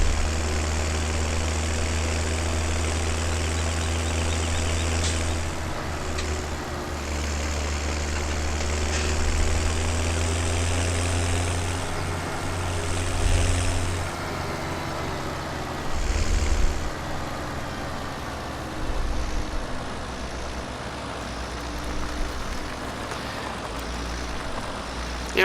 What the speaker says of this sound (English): I think the longer you use this tractor, the more it grows on you. And maybe it has a lot to do with the sound.